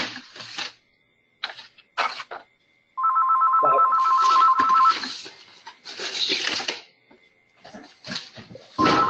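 Telephone ringing on a county disaster resource center conference call, a steady electronic trill of about two seconds heard among short bursts of clattering and background noise.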